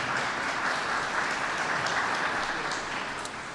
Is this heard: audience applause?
yes